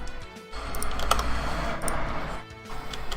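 Typing on a computer keyboard during a C++ programming session in Unreal Engine 4: a fairly close, continuous patter of key clicks with irregular bursts and brief pauses, with no talk over it.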